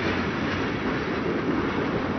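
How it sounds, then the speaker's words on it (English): A Seaboard Coast Line passenger train pulled southbound by E8A diesel locomotive 594 near Fort Lauderdale in 1970: a steady, loud rolling rumble of wheels and engine with no talk. "Pulling the train southbound is an E8A, engine 594."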